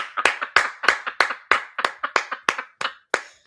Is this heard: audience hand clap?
yes